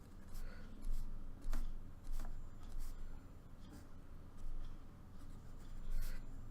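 Pencil or pen quickly sketching a number line freehand without a ruler, producing soft scratchy strokes in short repeated bursts, close and quiet, with no talking.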